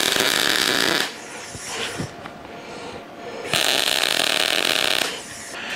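A MIG welder puts tack welds on metal: two loud, buzzing, crackling bursts of arc a few seconds apart, each stopping abruptly, with quieter handling noise in the gap between.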